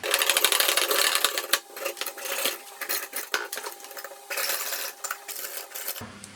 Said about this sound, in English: Now we just want to hacksaw the ends of these off.